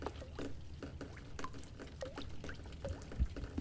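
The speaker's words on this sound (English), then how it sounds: "It is the pipes that are leaking." Water leaking from pipes in The Stanley Parable drips and trickles with scattered small plops and bloops, quiet and nearby, above a low steady background hum.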